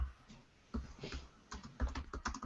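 Keys clattering on a computer keyboard in irregular bursts of typing, close and fairly quiet, with short pauses between flurries and no talking.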